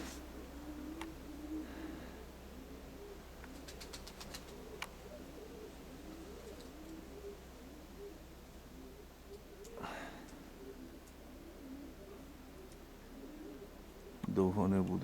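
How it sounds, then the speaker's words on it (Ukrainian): Pigeons in the Konotop area coo in a steady, low, rolling rhythm that runs throughout, with a brief louder burst of noise near the end. "бо з голубами так день пройде"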